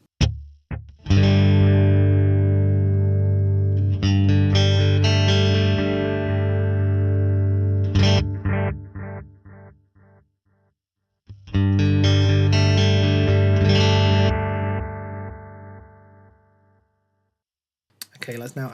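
Electric guitar played through a Fractal FM3 with a graphite copy analog delay, distorted chords and single notes ringing out with trailing repeats, in two phrases separated by a short pause.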